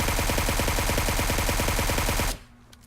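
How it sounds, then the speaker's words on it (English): Sustained automatic fire from a suppressed QBZ assault rifle in the mobile game PUBG Mobile, a dense rapid stream of close shots for just over two seconds, then sudden quiet with no talking. "substantial difference in recoil so far with the suppressed AR here"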